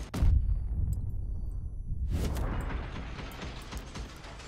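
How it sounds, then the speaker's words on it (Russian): Autocannon in the Crossout vehicle combat game: a heavy blast opens, then quiet mechanical clicks and clatter of the weapon reloading before another burst of firing noise. "перезарядка"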